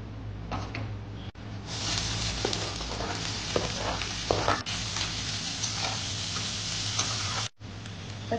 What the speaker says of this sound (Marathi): आता मी कढईमध्ये थोडंसं तेल टाकून कांदा परतवून घेणार आहे